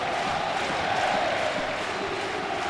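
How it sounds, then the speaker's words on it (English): Football supporters at a 2008 European match between Guimaraes and Portsmouth roar as a steady wall of crowd noise, the cheering swelling slightly louder as a dense, continuous stadium din with no break. "The Irish crowd pick up the volume"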